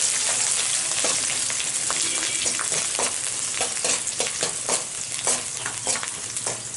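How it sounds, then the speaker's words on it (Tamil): Shallots, green chilies and curry leaves sauté in hot oil in a pan, a loud close sizzle with stirring scrapes throughout. "கூடவே வந்து 2 கொத்து கருவேப்பிலை நல்லா வதக்கி விட்டுருங்க."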